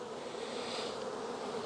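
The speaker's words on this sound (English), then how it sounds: "the bees are walking around on it" Package honeybees held in a polystyrene box with a metal screen give a steady, dense, close buzzing drone that stays unbroken throughout.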